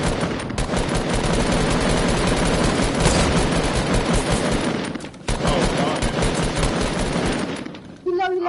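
Heavy, continuous automatic gunfire in Fortnite, dense rapid shots close and loud for most of the clip with one brief pause, while voices talk underneath.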